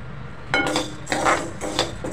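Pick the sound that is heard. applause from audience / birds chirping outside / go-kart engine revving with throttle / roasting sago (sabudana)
roasting sago (sabudana)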